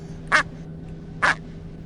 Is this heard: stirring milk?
no